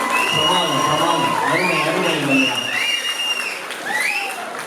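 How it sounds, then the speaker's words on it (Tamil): Audience at a Tamil association's Pongal festival debate claps loudly and continuously, a dense sustained applause with voices and cheering mixed in. "மீண்டும் உங்களுக்கு பலத்த கைத்தட்டல்"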